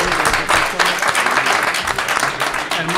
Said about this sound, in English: let's have a round of applause for Maricela Cornejo